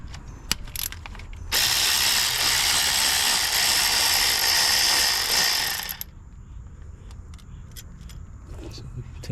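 Rapid metallic ratchet clicking from a socket wrench loosening the bolts on a Honda V-TEC solenoid, a dense continuous buzz of pawl clicks for about four seconds, close and loud, followed by quieter scattered tool handling.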